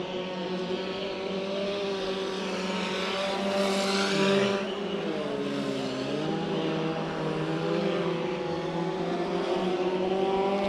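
Mini stock race cars circle a dirt speedway track in a heat race at night, engines droning steadily with a pitch sweep as cars pass, a continuous loud roar.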